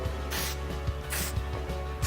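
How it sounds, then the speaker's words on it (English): Two short hissing bursts of a fine-mist hair spray, used during a balayage colouring session in a salon, each lasting about a quarter second and heard over a low steady background hum. "you don't want to spray too much, just a little bit"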